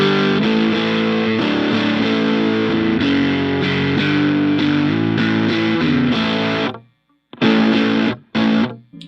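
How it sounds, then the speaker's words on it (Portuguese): Electric guitar run through a second distortion pedal, dense sustained chords played loud and steady for several seconds, then cut off into a short silence before two brief distorted bursts. "Vou ligar essa outra distorção."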